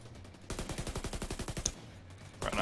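Rapid automatic gunfire from The Division 2 video game cracks out in one sustained burst of about a dozen evenly spaced shots. Brief quiet follows before another sharp sound begins at the end.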